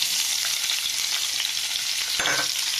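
Julienned onion dropped into hot oil in a pan, giving a steady broadband sizzle and crackle that swells briefly near the end as the onion is stirred, close and alone with no talk.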